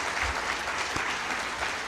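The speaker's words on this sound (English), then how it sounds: "So can we give our panelists one round of applause here?" An audience at a solar farm and agrivoltaics farmer forum gives panelists a brief round of applause, a dense, even burst of many hands clapping that fills the whole short moment.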